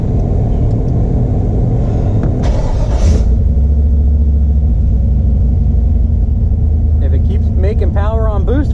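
A turbocharged 4.8 engine runs on a dyno with extra boost, a loud, steady low drone that pushes continuously through the whole stretch, with a brief higher burst partway through and faint whistling near the end.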